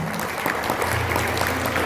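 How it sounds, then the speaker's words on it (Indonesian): Congregation applause in a church service, a steady dense wash of clapping sustained throughout with a low hum beneath and no break. "Berikan tepuk tangan bagi Tuhan."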